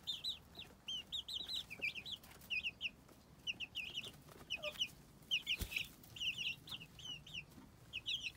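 Chicks cheeping while pecking at melon seeds, a steady stream of short, high, repeated peeps close by over a quiet background, with one sharp knock partway through.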